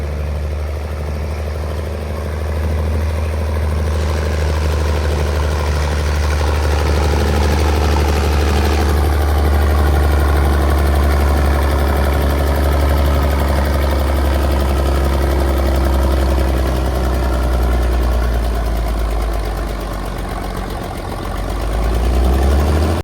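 A pulling tractor engine idles at a county fair tractor pull with a deep, steady low rumble, loud and close, droning continuously with slight variations in pitch.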